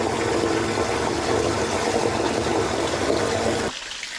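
A water aerator churns and agitates the water in a catfish holding tank, a steady loud gushing rush that cuts off abruptly near the end.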